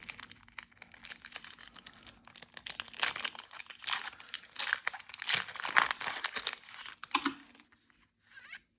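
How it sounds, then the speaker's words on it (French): Playmobil trading card packs being torn open and unwrapped, with a continuous run of loud, close crinkling and crumpling foil plastic and sharp tearing bursts, fading out near the end. "Donc commençons le déballage."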